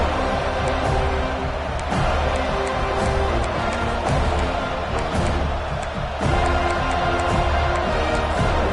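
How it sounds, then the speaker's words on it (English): Home crowd in the Madden football video game keeps up a steady, loud roar and cheer throughout, a dense wash of noise with faint background music-like tones and no clear talk. "how nice is it to have the home crowd going absolutely bananas?"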